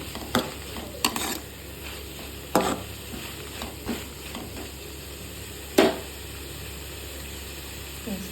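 Onion and tomato with turmeric powder stirred in a frying pan, a soft steady sizzle broken by several sharp clacks of the spoon against the pan; quiet throughout, with no talking.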